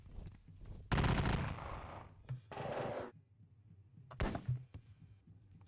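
Musket volleys crack out during a Napoleonic-era wargame battle at Valmy, several sharp broadband bursts in irregular sequence, a long loud blast early, then shorter reports with hollow thuds between, with no talking.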